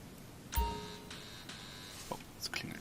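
A mobile phone rings in GTA V Online as a short, faint, chiming electronic tone that sustains briefly. Soft clicks and scattered quiet taps follow.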